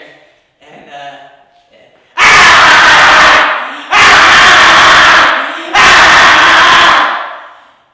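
A person screams in an echoing room, three long, very loud screams in a row with short gaps, each ringing off the walls, after a few quiet murmured sounds at the start.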